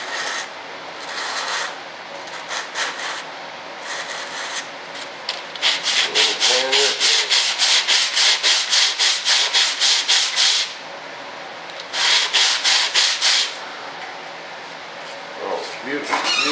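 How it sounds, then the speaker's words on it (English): Sandpaper rubbing along an edge of a model F-9F airplane kit, in quick rhythmic back-and-forth strokes, loud and close, grouped in several long runs with short pauses between them. "Sand this edge, but we got to be careful right here."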